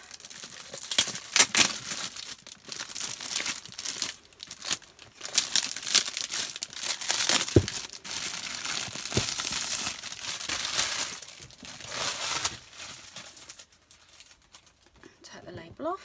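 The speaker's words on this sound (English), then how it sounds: "Do excuse the rustle while I just take the cellophane off." Cellophane wrapping peeled off a three-drawer gift box, crackling and crinkling close up in bursts of rustle and tearing that carry on with little pause, easing near the end.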